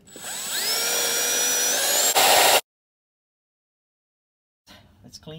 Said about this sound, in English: All right, let's drill a hole.